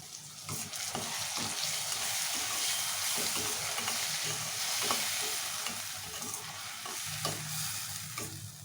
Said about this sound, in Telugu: సో టొమాటో పేస్ట్ ఆయిల్లో బాగా మగ్గి ఆయిల్ అంతా పైకి తేలాలి టొమాటో మంచిగా ఫ్రై కావాలి